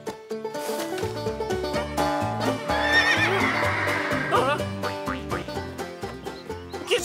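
Cartoon horses on a farm whinny in repeated bright neighs over light clip-clop hooves and a busy musical score, with quieter farmyard bird calls mixed in.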